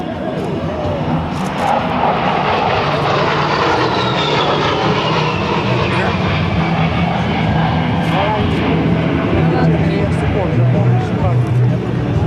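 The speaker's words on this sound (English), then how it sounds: "from the right, Captain Green and the A-10 Thunderbolt II." A-10 Thunderbolt II jet performing an air show flight demonstration at a joint services open house, a loud, sustained engine roar filling the whole span while an announcer talks over it.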